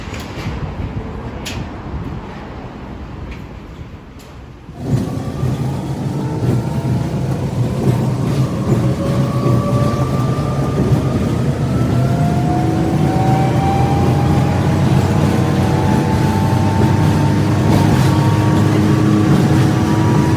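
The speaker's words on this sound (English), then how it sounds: "I took the monorail" Aboard the Seattle monorail, a quiet cabin gives way after a few seconds to a loud, steady rumble and rising electric whine as the train accelerates and cruises along the track.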